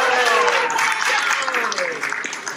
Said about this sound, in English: can we just give a round of applause for our interpreter?